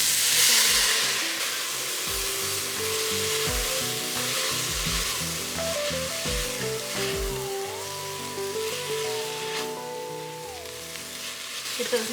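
Mushrooms and onions sautéing oil-free in broth in a pan, a steady close sizzle with occasional stirring scrapes and a low hum beneath.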